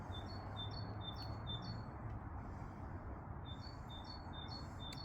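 Repeated squeaky, wheel-like bird calls in short bursts, fairly faint, over a constant low rumble of background noise.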